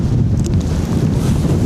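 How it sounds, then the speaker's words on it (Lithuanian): Strong gusting wind buffets the microphone on a lake during perch fishing, a loud steady roar with low rumble and no talk. "Bet vėjas, wow."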